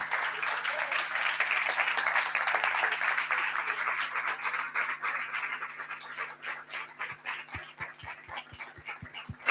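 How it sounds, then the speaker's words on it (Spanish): Audience applause for Andrea at a book presentation, a dense steady patter of many hands from the start, thinning out near the end into a handful of separate, louder single claps. "os voy a pedir otro aplauso para Andrea"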